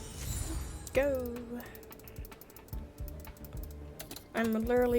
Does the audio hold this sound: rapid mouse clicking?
yes